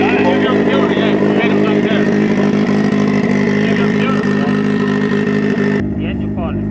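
A 300 bhp Mazda MX5 drift car engine drones loudly and steadily at high revs, holding a constant tone without climbing past a limited range, then cuts away near the end while voices talk under it.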